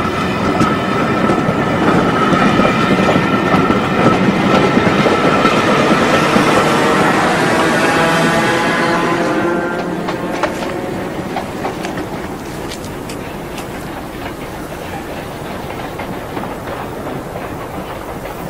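A Network SouthEast train rumbles loudly past a railway signal with rhythmic clattering wheels and squealing, then fades to a quieter, lingering rattle as it moves away.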